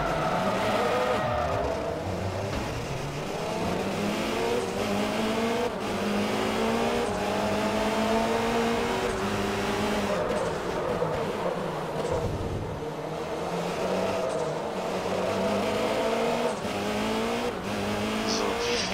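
Class R1 race cars in Forza Motorsport 3 roar through a championship round with rising and falling revs, upshifts and occasional tire squeal. The engine noise is constant and loud throughout.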